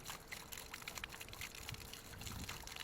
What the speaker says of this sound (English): At 200 feet of hose on here, we gotta wait for the good cold water.